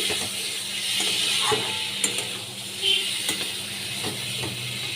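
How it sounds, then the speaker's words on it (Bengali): Ridge gourd and potato posto stirred and sautéed in a pan, a steady sizzle with intermittent scraping and clinking of a spoon against the pan. "পাঁচ মিনিট আমি ভালো করে কষিয়ে নিচ্ছি"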